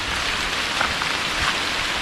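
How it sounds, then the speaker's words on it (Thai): Rain falling in a tropical rainforest on the Thai–Cambodian border, an even, hissing wash of drops at moderate distance that continues without pause and without speech. "ฝนตก"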